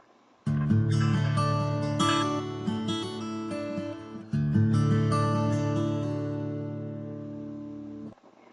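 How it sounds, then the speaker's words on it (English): An acoustic guitar rings out alone in two strummed phrases, with a short break between them, and the second phrase's chord lets its sustain fade before stopping cleanly. "That is known as the acoustic guitar"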